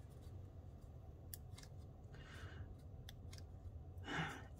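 Scissors snipping paper for a handmade birthday card, a few short, crisp cuts spaced irregularly over a low background hum.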